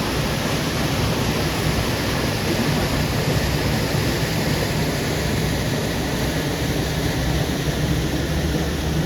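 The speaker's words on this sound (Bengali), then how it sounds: "মাছগুলো ওই যে ঝর্ণাটা পড়ছে" Steady, dense rush of a forest waterfall pouring into a pool at Bangriposi in Odisha, loud and constant throughout with no pauses and no voices.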